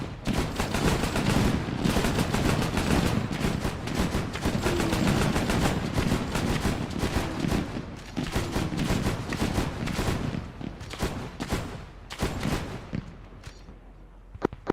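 Sustained gunfire in the military shooter game Arma 3: dense, continuous bursts of rifle and machine-gun fire mixed with distant booms, loud throughout and thinning slightly toward the end, with no talk over it.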